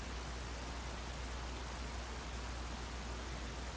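Steady rain falling in the Minecraft video game, set to fancy graphics with heavy snow and rain, a constant even hiss with no breaks, no other sounds over it.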